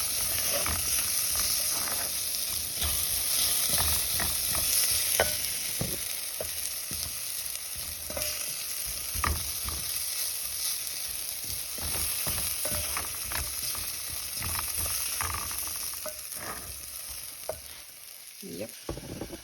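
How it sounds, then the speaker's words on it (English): Butter beans stirred with curry spices in a frying pan: a steady close sizzle with repeated scraping, clacking stirs throughout, tailing off near the end. "I've added 2 cups of the butter beans and I'm stirring them to ensure that they are coated with the spices"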